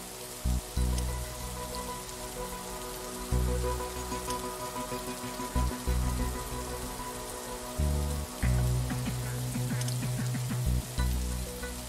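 Steady rain falls in The Riftbreaker, a dense, even hiss of drops on surfaces with soft rumbling pulses from the game underneath, continuous throughout with no voices.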